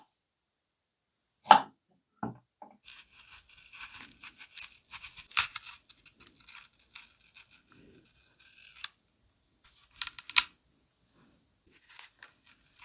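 A sharp knife from a budget knife-block set slices through radish on a cutting board, giving a run of quick crisp cuts and scraping taps, close and fairly quiet, with isolated sharper chops after a pause.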